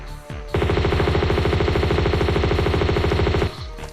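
Enemy machine gun fire in Tomb Raider 2, one sustained burst of rapid, evenly spaced shots lasting about three seconds, loud and close, with quieter ambience before and after.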